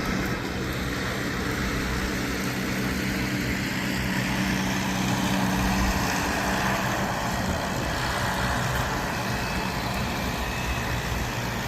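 A thunderous 350 tractor engine runs steadily during a plow day at a steam and gas engine society event, making a loud, dense, unbroken engine roar and rumble close by for the whole stretch.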